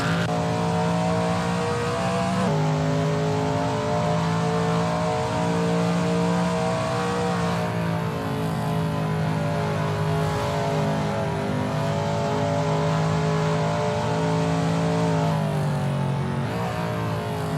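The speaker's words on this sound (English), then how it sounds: "the roar of the engine" A Shelby Mustang GT350R engine roars steadily and loud throughout at Willow Springs, its pitch rising and falling as it accelerates and shifts, with no voices.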